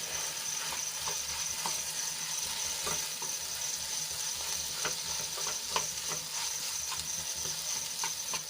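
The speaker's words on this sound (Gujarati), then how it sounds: "એ એડ કરી લઈશું અને મસાલામાં સરસ રીતે મિક્સ કરી લઈશું" Boiled, mashed potatoes being stirred into spice masala in a pan, with a constant close sizzle and a regular patter of spoon scrapes and clicks, no voices.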